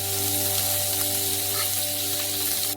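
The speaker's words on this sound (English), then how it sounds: "and fry the onion" Chopped onion fries in olive oil in a pan on the stove, a dense, even sizzle with fine crackles that holds steady and close for the whole stretch.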